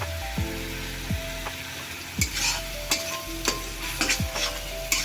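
Spice masala frying in oil for a spongy chicken curry, a continuous sizzle with repeated scraping stirs and spoon knocks against the pot at a fairly regular pace, close and alone.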